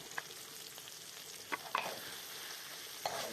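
Powdered spices being stirred into beef liver in a pan, with a few brief scrapes and clicks over a faint, steady sizzle.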